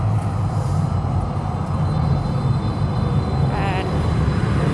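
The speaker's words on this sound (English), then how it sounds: "Finally, it's coming, the train." A transit train pulls into a Calgary station in winter, a broad continuous rumble that stays loud and close, with a brief rising whine near the end.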